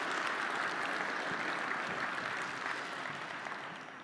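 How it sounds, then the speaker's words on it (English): Sustained, dense applause from a live conference audience at a magic performance, loud and steady throughout before tapering slightly at the end. "Let's give him a big round of applause."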